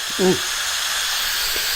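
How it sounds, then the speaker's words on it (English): An Instant Pot pressure valve releases steam in a loud, steady hiss that fills the whole clip, with a brief voice near the start. "I'm going to let off that steam"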